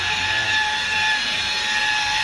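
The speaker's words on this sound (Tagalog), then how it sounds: "So ayan yung nagbabaping natin" Steady, loud whine of a buffing machine polishing a car's paintwork after fine sanding, running continuously with a sustained tonal hum and no pauses.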